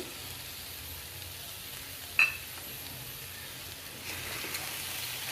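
Green peas go into a hot pan with tomatoes, apple and salt for a vegetarian dish. A soft, steady sizzle hisses throughout, with a sharp clink near the middle and slightly louder frying toward the end, without talk.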